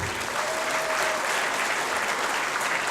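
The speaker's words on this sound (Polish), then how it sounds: "jeszcze raz proszę o duże brawa" Audience applauding soloists after a concert performance of chanson songs, a steady, dense wash of many hands clapping throughout, close and fairly loud with no voices over it.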